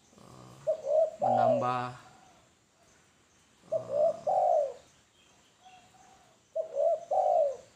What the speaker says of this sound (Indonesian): nyaring bunyi dari burung ini ya, burung tekukur.